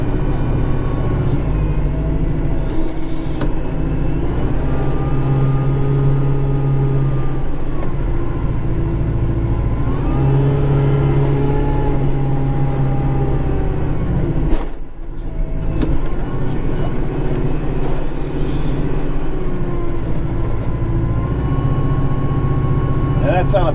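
A loader tractor's engine drones steadily while the machine slides on icy snow, with people talking over the continuous low rumble throughout.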